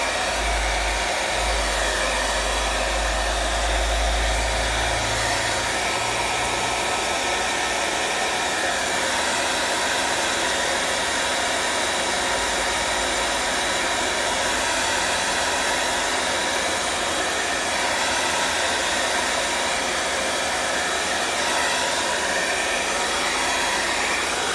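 A hair dryer blows over freshly laid acrylic paint, a loud constant whooshing roar held close for the whole stretch, with a slight low rumble near the start and no talking.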